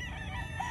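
A rooster crows on a chicken farm, one brief fragment of a call that is heard alone at moderate distance.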